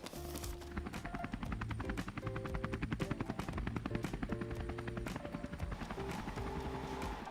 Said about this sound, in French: Amelka, l'hélicoptère est arrivé!